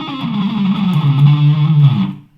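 Electric guitar plucked with the middle fingernail instead of a pick, a sustained distorted note bending and wavering for about two seconds before cutting off, loud and alone.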